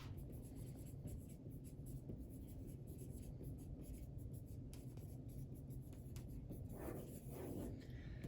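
Pen or pencil writing a thematic statement by hand, a steady scratchy rubbing that runs continuously at close range with no talk.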